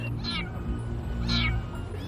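A trapped kitten meows out of sight in hot daytime conditions, two drawn-out plaintive cries about a second apart over a steady low background hum, moderately close and fairly clear.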